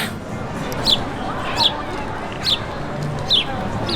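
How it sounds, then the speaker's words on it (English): Outdoors at a Disney park, a bird with loud, extraordinary chirping skills gives four sharp high chirps at a steady interval over a constant murmur of crowd and background noise. "This bird has extraordinary chirping skills"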